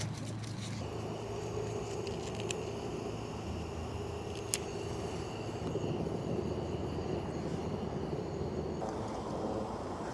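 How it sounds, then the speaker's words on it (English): A Jetboil camping gas burner set up outdoors to bake chocolate chip cookies roars with a steady, dense rushing hiss that carries through the whole stretch, with a couple of faint clicks and no speech. "I'm going to be using the jet boil burner."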